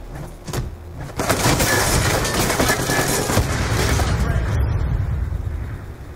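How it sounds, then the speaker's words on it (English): Heavy gunfire and explosion bursts fill a Black Ops 2 match, loud and dense after a brief lull, rolling continuously with faint voices underneath. "Yeah, explosions."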